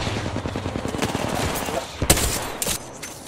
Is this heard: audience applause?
no